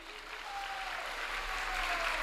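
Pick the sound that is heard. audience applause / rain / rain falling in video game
audience applause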